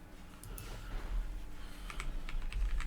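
Computer keyboard keys clicked in quick bursts during a competitive online Pokémon battle match, with light irregular taps growing busier toward the end over a low steady hum.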